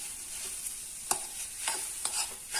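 Papaya halwa stirred in a kadai, a soft low sizzle broken by a few sharp scrapes of the spoon against the pan, close and quiet, with no speech.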